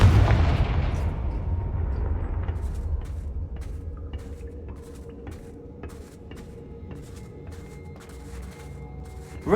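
Confringo spell blasts from the Hogwarts Legacy video game: a heavy boom opens, then a string of sharp crackling bursts and pops rings out over a low rumbling tail.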